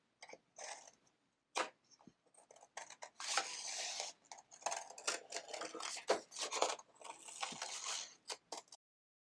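Scissors snipping out paper eucalyptus greenery for a children's Valentine bouquet craft, with a series of close, crisp cuts coming in bursts between brief pauses, no talk.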